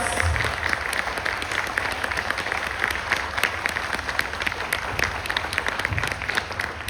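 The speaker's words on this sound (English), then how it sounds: "a big round of applause" Sustained applause from an audience at a children's school assembly, steady dense clapping filling the room throughout, fairly loud and continuous.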